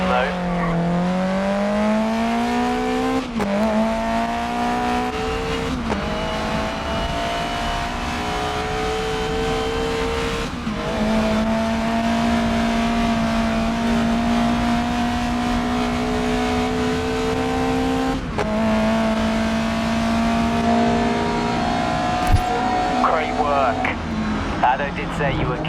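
Race car engine in the GRID Legends video game revving loud and continuous, pitch climbing and dropping with gear changes, running near peak performance though the fuel system is faulty.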